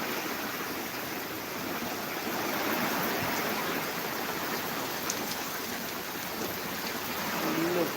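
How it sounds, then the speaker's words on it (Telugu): Heavy rain driven by wind in Kakinada, a steady, dense roaring hiss that holds evenly throughout and swells slightly near the end, with no clear voices over it. "గాలి ఒక పక్కన వర్షం పక్కన"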